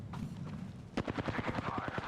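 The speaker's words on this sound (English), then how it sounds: "Firing on subjects." Video game gunfire: a rapid burst of shots in a fast, even automatic rhythm, loud and close, following a few scattered softer pops.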